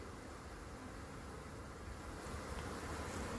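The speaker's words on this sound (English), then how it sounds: "A lot of bees in there." A dense, steady buzzing hum of many honey bees in a nuc hive box, continuous and close, with no voices.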